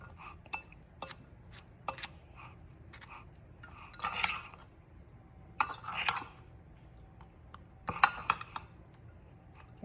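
A spoon turns chicken biryani in a pot, making scattered sharp metallic clinks and scrapes against the metal, close and fairly quiet, with pauses between strokes and no talking.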